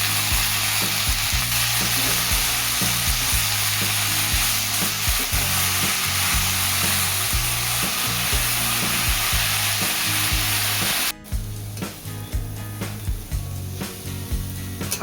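Radish bhaji stir-fries in a pan with a loud, continuous sizzle. A spatula scrapes and stirs in repeated strokes, and after a short break the frying carries on a little quieter.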